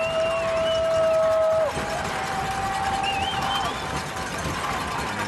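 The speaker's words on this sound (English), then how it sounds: "This crowd is into this one tonight." High school football crowd at a Friday night game, a steady wash of cheering and broad stadium noise carrying on throughout, with whistle-like tones and scattered shouts over the roar at a middle distance.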